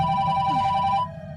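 A telephone rings steadily for about a second with a bright electronic tone over a low background hum, then cuts off, leaving the quieter hum; nobody speaks.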